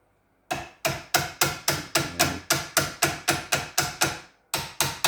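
Rapid, evenly spaced hammer taps, about fifteen sharp metallic strikes, drive a Ford Fairlane/Falcon steering intermediate shaft into its bearings, with a brief pause before the last two blows.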